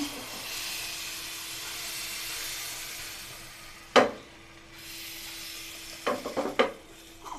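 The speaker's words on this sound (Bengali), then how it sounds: "এবার আমরা পিঠাটা চুলাই দেব।" Pitha batter made from date jaggery, rice flour and wheat flour sizzles in a hot frying pan with a steady soft hiss, broken by a few sharp clinks and scrapes near the end.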